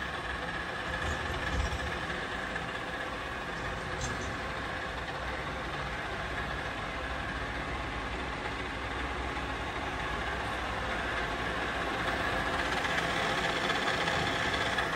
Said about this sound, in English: Working of spindle at its maximum speed, that is 1400 RPM.